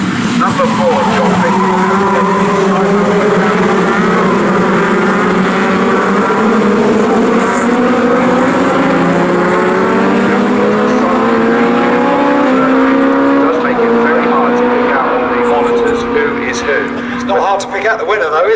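Legends race cars circle Snetterton circuit, their engines droning loudly and changing pitch as the pack accelerates and passes, with a commentator talking over the racing throughout.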